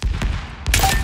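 A splinter grenade in the shooter Spectre Divide bursts with a sharp, loud blast and scattering crackle near the end, after a few softer thumps, with no talking.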